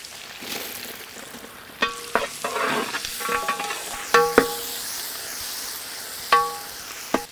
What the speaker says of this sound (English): Green chilies. Saute well.